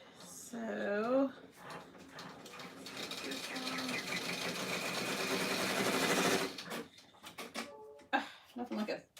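Sewing machine running in a steady continuous stitching burst for several seconds, close and moderately loud, preceded and followed by brief clicks and handling noises, with a person talking softly around it.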